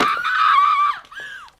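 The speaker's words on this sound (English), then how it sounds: "That continuous blood-curdling scream from Regina is fantastic." A continuous, blood-curdling scream from the 2004 film Mean Girls, loud and sustained for about a second before breaking off and resuming briefly, with no other voices.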